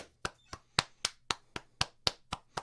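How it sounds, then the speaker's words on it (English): Applause at the end of a game, heard as single sharp claps repeating at a steady pace, about ten crisp hand strikes spaced roughly a quarter second apart, close and distinct. "Another round of applause."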